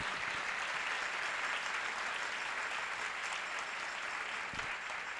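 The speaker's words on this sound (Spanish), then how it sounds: "vamos a darle un aplauso al amor eucarístico" Steady applause from a church congregation, a dense continuous wash of clapping heard from a distance, fairly faint and unbroken throughout.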